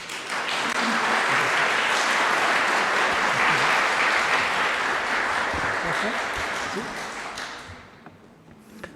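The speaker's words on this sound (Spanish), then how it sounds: "Recibamos con un fuerte aplauso a nuestro expositor." Audience at a forensic genetics congress applauds steadily to welcome a speaker, a dense, sustained clapping that fades out near the end.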